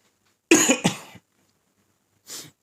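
Two sharp coughs close together, then a pause and one softer cough, near and clear against silence.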